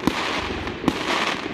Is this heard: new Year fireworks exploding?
yes